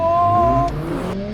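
Mercedes-AMG A45S launching hard from a standstill, a loud close engine roar with rising pitch that drops briefly as the gear changes, then climbs again.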